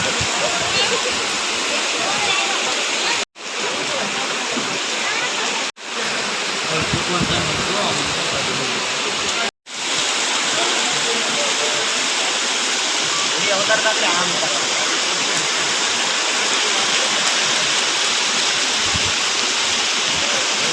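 Heavy rain pours in a dense, steady roar throughout, broken by a few brief dropouts, with faint talk underneath.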